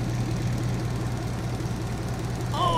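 A steady low truck engine hum in Farming Simulator 22 drones continuously at an even idle, with a faint higher tone appearing briefly near the end.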